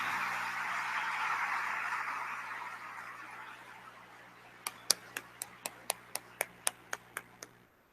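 Audience applause for a speaker at a financial supervision conference on fintech, a broad wash of clapping that fades out, followed by about a dozen sharp evenly spaced single claps near the end.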